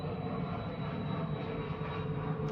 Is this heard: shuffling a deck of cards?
no